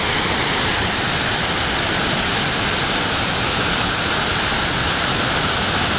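Steady, loud rush of a waterfall near the foot of Mount Asama, with pumice-strewn ground nearby; a continuous broadband roar runs unbroken from start to finish, with no voices.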